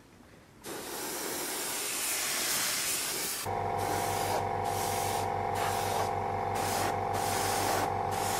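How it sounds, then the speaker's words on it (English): An airbrush hisses paint onto a building model for a diorama in a steady continuous spray, with a mechanical hum and rhythmic pulsing joining partway through, close and fairly loud. "So reload the airbrush and back onto the model."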